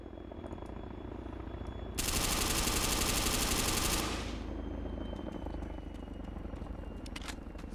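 An MP5 submachine gun fires in the game Exile, a loud sustained automatic burst lasting about two seconds with dense rapid shots, set against steady background noise.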